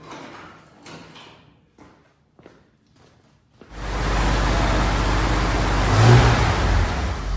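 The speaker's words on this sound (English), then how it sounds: "Fire up. Down to gear. Clutch in. Give it a little gas." A 1969 Chevy C30 truck with its engine starting, then going into gear and accelerating. Scattered clunks and quiet gaps give way to a sudden loud, steady engine roar that swells slightly as it pulls away, with no voices.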